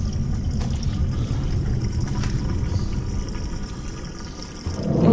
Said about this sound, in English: we are now going to finish filling the water until it is overflowing